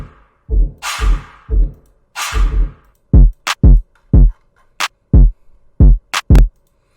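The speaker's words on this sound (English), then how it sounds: "The kick and the snare should sound something like this." A punchy electronic drum loop pairs deep kick thumps with sharp clap hits in a steady, sparse pattern, loud and dry, with silent gaps between the beats.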